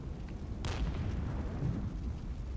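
A single heavy artillery boom goes off in the Regiments war game, standing out sharply against a steady low battlefield rumble that continues underneath.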